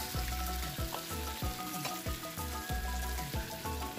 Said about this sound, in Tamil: வெங்காயம் அந்த எண்ணெயிலே நல்லா வதங்கட்டும்.